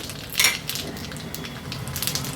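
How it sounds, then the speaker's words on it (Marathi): Mustard seeds, cumin, curry leaves, dried red chillies and asafoetida sizzling in hot oil for a tempering, a crackly hiss with a sharp pop early on and faint stirring clinks. "व्यवस्थित ही फोडणी आपल्याला मिक्स करून घ्यायची आहे"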